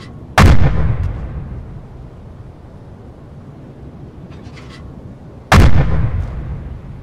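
Two heavy submarine deck gun blasts in the video game UBOAT, several seconds apart, each booming loudly then fading into a rumbling tail over quiet background noise.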